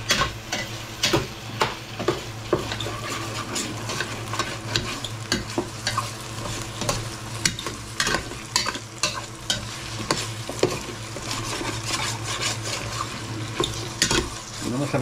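Ginger fries in hot oil with a steady crackling sizzle while a utensil stirs and scrapes the pan in frequent sharp clicks, close and busy, with no talking.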